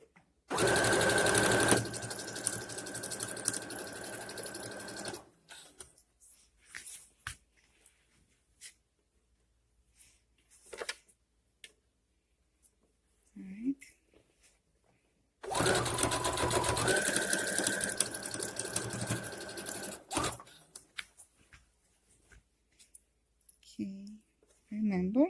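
A sewing machine runs the final stitch along a refashioned dress in two long bursts of steady whirring, each lasting several seconds with quiet gaps between, where brief talk and faint handling noises come through.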